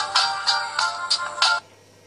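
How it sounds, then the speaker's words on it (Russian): A red Nokia C451 mobile phone plays its startup tune on being switched on, five bright, evenly spaced chiming notes ringing out close and clear from a loud speaker before falling silent. "Давайте мы включим данный телефон и посмотрим,"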